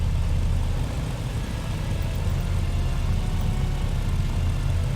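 Twin engines of a BN-2 Islander in Microsoft Flight Simulator drone loudly and evenly, a dense low rumble with a broad hum that holds steady with no pauses or voices.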